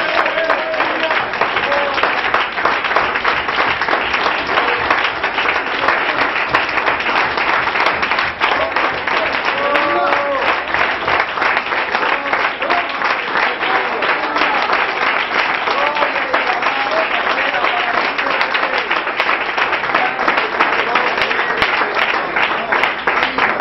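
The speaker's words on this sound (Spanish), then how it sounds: "den una ofrenda fuerte de aplauso a Dios" A church congregation applauds God in a long, steady burst of dense clapping that fills the room loudly from start to finish, with a few voices faintly mixed in.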